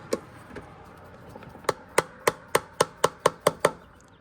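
A new valve cover seal on a first-generation Toyota Tacoma or 4Runner V6 is tapped into place with a 27 mm socket: two faint knocks, then a steady run of about nine sharp, close metallic taps.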